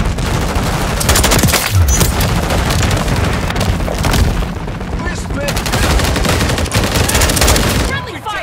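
Sustained gunfire fills a Call of Duty Modern Warfare 3 (2023) battle, with dense overlapping automatic bursts and heavy booms rolling on almost without pause, loud throughout, with some voices shouting over the barrage.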